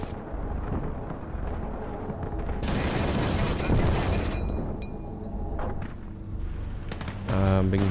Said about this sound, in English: Being hit by anti-tank rounds.